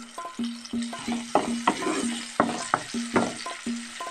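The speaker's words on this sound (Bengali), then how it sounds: "এবার টমেটো দেব সামান্য লবণ দেব যাতে টমেটোটা নরম হয়ে যায়" Tomatoes with a little salt sizzling in a frying pan for aloo dum, a close, steady sizzle under repeated rhythmic scraping and stirring knocks, with no voices.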